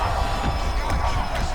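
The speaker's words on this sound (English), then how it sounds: "you hear the crowd react every time they come together" A crowd roars steadily in the EA Sports UFC 5 video game during a fight, with a dense, continuous arena din at fairly loud level and no clear separate voices.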